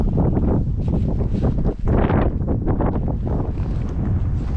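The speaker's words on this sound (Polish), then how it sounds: "Jest wiatr." Strong, gusty wind buffets the microphone on the Reykjanes coast in Iceland, a loud, continuous low roar with brief lulls and surges, with no voices.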